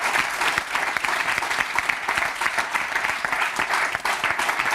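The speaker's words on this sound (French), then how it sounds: "c'était nos deux stagiaires de la semaine qu'on va applaudir" A room full of people applauds two interns, dense continuous clapping sustained for several seconds at an even, lively level.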